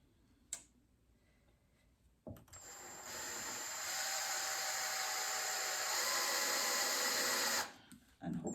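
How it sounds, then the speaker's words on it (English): A small power drill whirs steadily for about five seconds after a click, drilling holes in a side table, then stops; faint handling noises around it. "drill some holes."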